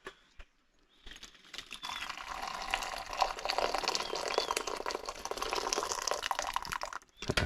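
Pre-boiled water pours steadily into a pot in a home kitchen for a double batch, a continuous close splashing stream running about six seconds after a brief quiet start.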